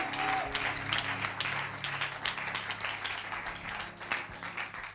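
A church congregation applauds and cheers at a service, a dense, sustained wash of many hands clapping that fills the space evenly, with faint voices mixed in.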